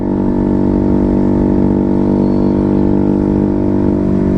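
Automatic scooter fitted with an SC Project full-system racing exhaust, holding a steady, loud, deep engine drone at constant revs throughout, close by with no voices.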